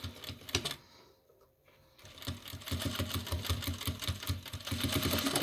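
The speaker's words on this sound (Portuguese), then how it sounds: "A sua máquina, ela vai manter um ponto bem legal se você for constante na costura." Domestic sewing machine stitching a zippered fabric pouch, a fast steady mechanical whir with rapid needle clatter after a brief pause, close and fairly loud with no talking.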